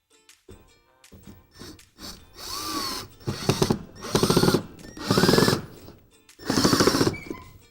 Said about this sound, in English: one more time, I'm gonna drive screws